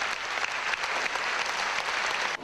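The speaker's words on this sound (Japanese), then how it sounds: "湧き上がる喝采が演奏の素晴らしさを物語っていた" Dense, sustained applause from a concert audience following a violin performance, loud and even throughout with no voices standing out, cutting off abruptly at the end.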